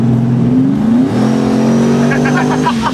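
A heavy 7,000-pound vehicle on big tires accelerates hard, its loud engine droning and climbing in pitch through a gear change, very close and dominant.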